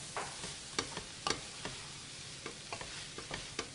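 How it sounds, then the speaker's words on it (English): A spoon stirring meaty chili with spices in a pot, giving soft scraping strokes and irregular light clinks against the pot along with a faint simmering sizzle, close and quiet with no talking. "Stir all of this together."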